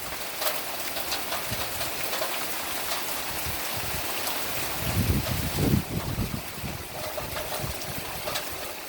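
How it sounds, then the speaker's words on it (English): Steady rain pours during a storm, a dense continuous hiss with a brief louder patch of gusting or heavier downpour midway, no voices. "I don't know if you can hear it, but it is raining"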